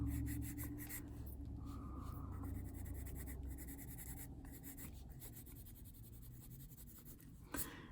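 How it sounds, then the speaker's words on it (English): Colored pencil rubbing over paper during adult coloring, a continuous close scratchy rasp of strokes that runs steadily throughout, ending with a brief louder scrape. "And just go over the paper again."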